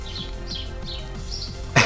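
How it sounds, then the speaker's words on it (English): Birds chirp in short, high, repeated phrases at a steady moderate level, with a brief louder burst of noise at the very end. "The birds are chirping and chirping"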